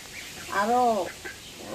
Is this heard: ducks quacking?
yes